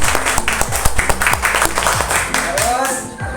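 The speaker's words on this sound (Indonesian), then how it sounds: "tepuk tangan buat Wahyu" Children in an elementary school classroom clap together in a brisk, loud round of applause, with a teacher's voice and kids talking over the clapping as it continues for a few seconds.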